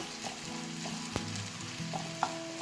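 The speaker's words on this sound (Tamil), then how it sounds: "இது மாதிரி பூண்டு கொஞ்சம் வதங்கிடுச்சு." Garlic frying in oil for egg masala, a soft steady sizzle with occasional light spatula taps against the pan, quiet and close.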